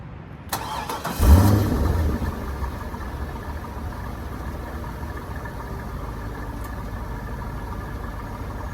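A 2003 Corvette 50th anniversary edition with a 5.7-liter V8 cranks briefly and fires up, then settles into a steady, rumbling idle close by, with no one speaking.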